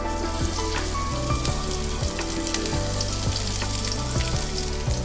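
Onions hit hot oil in a large pot for beef yakhni pulao, setting off a loud, dense crackling sizzle close by that keeps going evenly.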